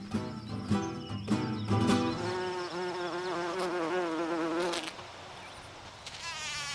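Insects visiting flowers make a close, wavering buzz that rises and falls in pitch as they hover and circle, fading out near the end, with no talk.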